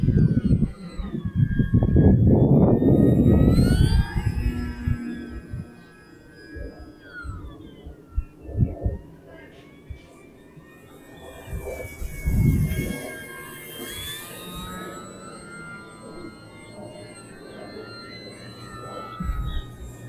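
An RC Tecnam model airplane flying loops overhead, its small electric motor whining and shifting pitch as it climbs and dives, loud early on and then fainter and more distant, with occasional low bumps.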